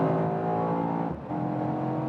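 A 2022 facelifted Mercedes-AMG E63 S E-Class sedan's combustion engine pulls hard under acceleration, a loud, steady, close-up roar with a brief dip midway and no voices.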